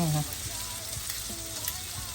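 Sisig, the Kapampangan pork dish, sizzles steadily and loudly in a hot pan, a continuous dense crackle close up with no talking.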